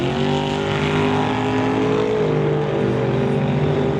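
Engines of a Chevrolet S10 pickup and the Evil Bucket Roadster drone loudly and continuously on a drag strip, holding a dense, sustained roar throughout.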